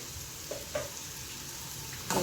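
Capsicum, tomato and grated beetroot sizzle quietly in a pan, a low steady hiss broken by a few soft clinks of a spoon stirring.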